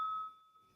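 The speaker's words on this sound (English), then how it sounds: "Is going to ring a bell like ding" A single bell ding rings out clearly, with a sustained metallic tone that slowly fades away; nothing else is heard.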